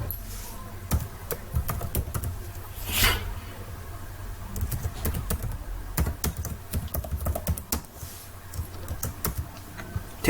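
Close, crisp keystrokes clatter on a computer keyboard in irregular bursts and pauses, with one softer swishing sound partway through and no speech.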